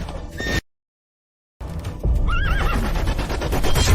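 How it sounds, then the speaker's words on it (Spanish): A frightened black horse whinnies loudly in a shrill, wavering neigh, following a brief break in the sound, with heavy rumbling and hoof noise underneath. "¡El caballo está asustado!"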